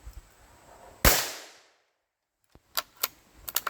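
A single sharp gunshot from a scoped salvage rifle fired outdoors cracks loudly and rings off into silence, followed by a few fainter clicks and knocks.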